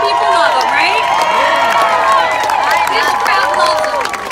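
A large crowd at an Ivanka Trump campaign rally in Fort Myers, Florida cheers and shouts loudly and continuously, with whoops and a few claps blending into a dense roar.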